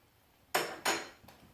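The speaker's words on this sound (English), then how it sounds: "Let me stir my pasta" Metal spoon knocking against a pot while pasta is stirred on the stove, with two sharp clanks close together followed by a fainter third tap, no voices.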